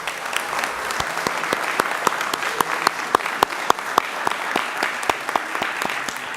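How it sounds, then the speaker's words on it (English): Crowd applause for newly promoted police sergeants at a police department promotional ceremony in Paterson, New Jersey, steady dense clapping from a room full of people with sharp individual claps standing out, sustained throughout. "One more round of applause for our new sergeants."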